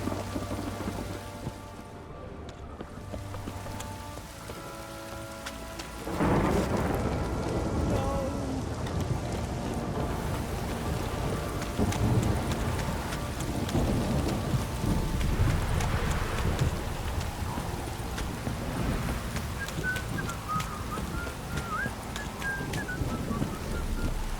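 Steady heavy rain pours throughout in the video game The Witcher 3, with low rumbles of thunder rolling in, growing louder partway through.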